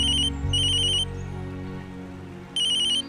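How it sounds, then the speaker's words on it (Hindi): A telephone ringtone plays in short electronic bursts, two quick rings, then a pause, then a third, loud and close over a low background hum. "अरे दीपक भैया का फोन है।"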